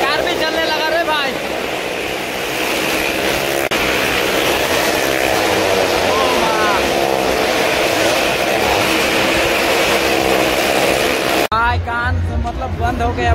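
A loud, steady engine roar from a vehicle-style ride at the Singri Mahashivratri fair in Assam, running continuously and drowning out the surroundings, with faint crowd voices and a brief closer voice near the end.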